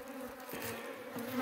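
Honeybees buzz at a hive in an apiary in September, a steady close droning hum with slight swells in loudness and no voices over it.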